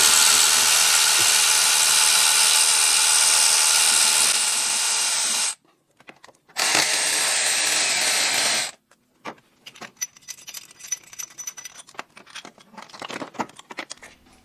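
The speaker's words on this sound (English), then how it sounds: "now we're going to unbolt the starter, which is two 14 mil bolts on the passenger side" Power tool whirring in two sustained bursts while unbolting the two 14 mm starter bolts on the passenger side of a Gen2 GR86/BRZ, loud and close, followed by scattered clanks and rattles of metal.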